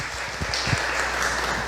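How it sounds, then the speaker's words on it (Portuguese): Applause from a church congregation at a Christian leadership lecture, a steady dense clatter of many hands at moderate volume, sustained through the whole short moment. "uma salva de palmas"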